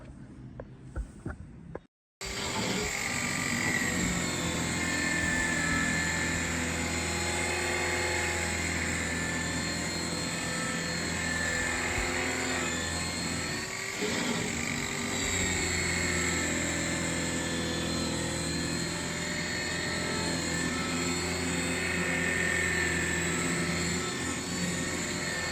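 A pneumatic air buffer runs steadily on a wheel lip for a wheel repair polish, a loud continuous whine and hum. It starts abruptly after a brief gap near the start and holds close and even to the end, with no talk.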